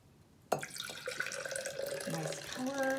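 Russian River Blind Pig IPA on draft pours from a growler, starting abruptly and then running as a steady, close, gurgling stream of beer into a glass.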